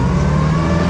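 A 1930s-style Austin 7 car drives forward, its small engine a steady, close droning hum with a constant low tone and no talk.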